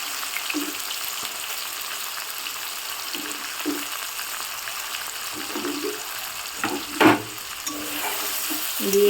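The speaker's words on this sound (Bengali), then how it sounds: "আগে ভালো করে পেঁয়াজটা ভেজে নেব।" Chopped onions fry in hot oil in a heated kadai while being stirred, giving a steady close sizzle broken by soft scraping strokes and a sharper clatter of the spoon against the pan.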